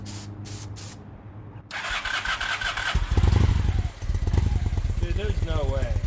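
A 2000 Honda Shadow motorcycle is sprayed with starter fluid and cranked with the choke out, then catches and settles into a loud, close, lumpy idle; a voice speaks briefly over it.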